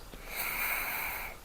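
Steady airy inhalation through the right nostril during pranayama alternate-nostril breathing, a soft continuous hiss of drawn breath lasting about a second, close and quiet with no talking.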